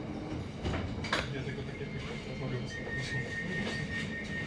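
Rumbling West Midlands Metro tram interior at the Handsworth, Booth Street stop, with a steady low hum, a few clunks and a faint high whine, while a recorded announcement talks over it.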